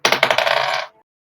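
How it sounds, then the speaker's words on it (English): Dice roll during a tabletop role-playing session, a quick loud run of hard clattering bounces and rattles that settles and stops within about a second, followed by silence. "I'll roll a dice."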